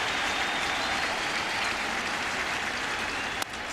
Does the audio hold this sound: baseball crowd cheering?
yes